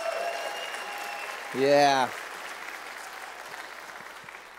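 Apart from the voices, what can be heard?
audience applause in church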